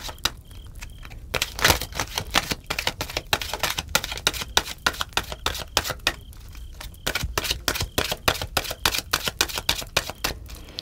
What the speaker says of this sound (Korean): 우리 로아님들을 위한 조언 카드를 뽑아보고요